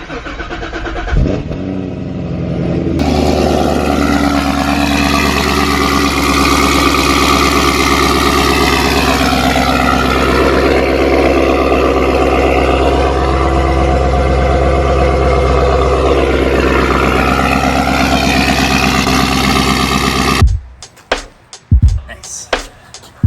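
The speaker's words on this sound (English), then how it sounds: "Get a little cold start." A Corvette Z06 V8 cold-starting with a sharp roar that settles into a loud, steady high idle with slight rises and dips, then cuts off abruptly near the end.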